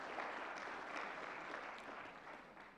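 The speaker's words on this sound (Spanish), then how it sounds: "vamos a aplaudir" A church seminar audience breaks into steady applause, a dense wash of clapping that fades slightly toward the end, heard at a distance and fairly faint.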